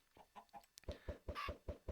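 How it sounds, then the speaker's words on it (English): Minecraft chickens cluck in a quick, steady series of soft pulses, preceded by a few brief bird-like calls, all quiet and close. "Another chicken, awesome."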